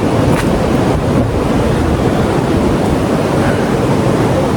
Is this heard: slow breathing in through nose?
no